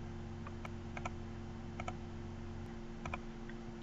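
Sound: typing an email address on a computer keyboard

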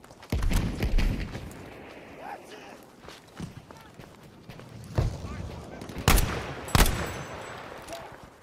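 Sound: machine gun fire in the video game Battlefield 5

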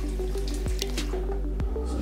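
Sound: water running through house plumbing during inspection

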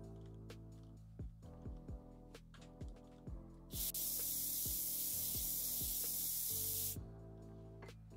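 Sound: spray painting a model dragon horn

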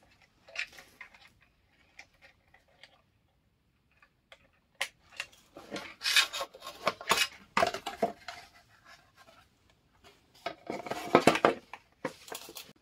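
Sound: fitting plastic shell back onto balance scooter

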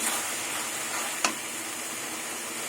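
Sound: spice masala frying in oil, cumin and coriander powder added

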